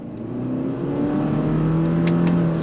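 A 2022 Subaru Forester Wilderness in manual shift mode with simulated gears pulls away from a stop, engine drone rising steadily in pitch as it accelerates, with faint clicks near the end.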